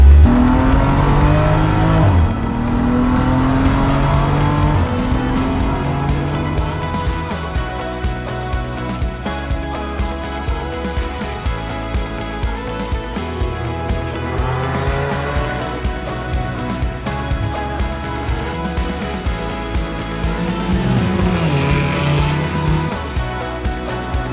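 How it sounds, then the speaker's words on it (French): A car accelerates hard around a race circuit, its loud engine note climbing through the revs again and again as it works up through the gears, with no talking. "vas-y, accélère là, vas-y, mets un peu de gaz là, direct."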